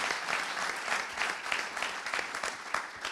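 Audience applause at a 2016 Olympic-themed event in Finistère, honouring a world team slalom champion: steady, dense clapping with a rhythmic pulse, moderately loud and close, with no talk over it.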